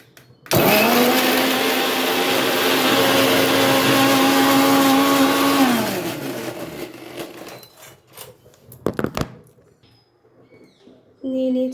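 A kitchen blender grinding ginger, onion, garlic, cumin, turmeric, salt and chilli powder into a paste, a loud steady whirring motor for about five seconds that winds down, followed by clattering handling noises and a brief restart.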